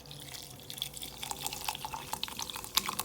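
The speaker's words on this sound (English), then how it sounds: "We take our Pellegrino gaseous water. We fill up our glass." Sparkling Pellegrino mineral water poured into a glass, with a run of light fizzing drips and splashes that stays fairly quiet and close throughout, with no talking.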